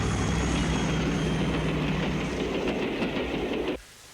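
A train rumbles along the tracks with a steady, loud rolling roar and faint rhythmic clatter, cutting off abruptly near the end to a quiet hush.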